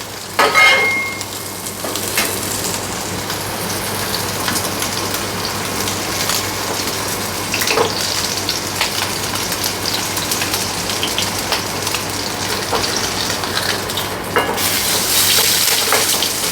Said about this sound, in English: heat up a pan, then we're going to sear off the patties